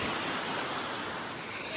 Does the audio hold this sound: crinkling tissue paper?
no